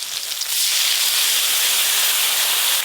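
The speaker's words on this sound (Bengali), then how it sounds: "টমেটোগুলো একটু ভালো করে ভেজে নিই, তারপর রান্নাটা করব" Raw tomatoes frying in oil in a pan give a loud, steady hiss that swells to full strength after a brief quieter start and then holds without a break.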